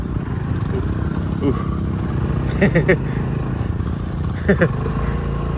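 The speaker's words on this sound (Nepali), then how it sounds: "स्कुटरलाई चाहिँ त्यस्तो गाह्रो त होइन तर पनि फेरि पनि हल्का हिलोले गर्दा नाच्दो रहेछ" A scooter engine drones steadily with a rough, rumbling roar throughout as it rides a slippery muddy road, and a few short bumps and knocks come through.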